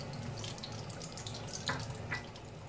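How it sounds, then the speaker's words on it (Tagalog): Chopped onion sizzles in hot annatto seed oil for Filipino arroz valenciana, a soft, steady hiss with a couple of sharper crackles near the end. "So pag mainit na siya, pwede na ilagay yung onion."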